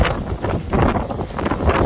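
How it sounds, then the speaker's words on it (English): Strong gusting wind after a storm that threw a tank into a house, buffeting the microphone with a steady broadband roar that swells and eases in uneven gusts, with faint rustling. "So friggin' windy"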